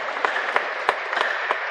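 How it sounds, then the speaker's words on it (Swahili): A church congregation at a Sunday Mass applauding, a steady wash of many hands clapping with several sharper peaks, heard fairly close and with no talking over it. "Makofi sana."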